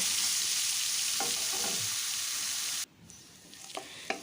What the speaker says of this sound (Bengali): পেঁয়াজটা দেওয়ার পরেও আমি বেশ কিছুক্ষণ ধরে একটু ভেজে নেব যতক্ষণ না পেঁয়াজের কালারটা লাল আসছে